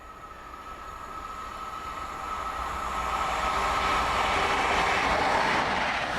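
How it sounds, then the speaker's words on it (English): An HST high-speed train on a Newcastle to Plymouth service pulls away from Ashchurch on a misty winter's day, its steady rail rumble and wheel noise swelling slightly and holding, with no voices. "On a misty winter's day, a Newcastle to Plymouth train heads away from Ashchurch."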